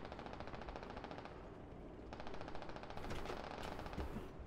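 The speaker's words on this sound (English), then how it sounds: "You hear the tank firing." Rapid bursts of tank fire and gunfire in a video game squad match, dense repeated shots sounding loud and continuous over a busy battle background.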